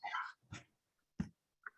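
A few short, quiet dog barks and yips in quick succession, slightly distant, with brief silences between them.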